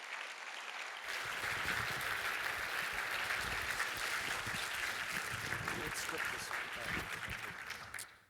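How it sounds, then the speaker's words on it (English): A symposium audience at a screen-industry event bursts into sustained applause, starting abruptly after a second of quiet, holding steady and dense for about seven seconds before tapering off at the end. "Can we give them a round of applause too, please"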